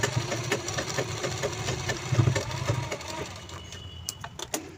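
A sewing machine runs steadily, putting a press stitch on a sling bag: a continuous mid-pitched mechanical whir with a fast, even pulse of needle strokes that swells briefly and then settles, close by with no talking.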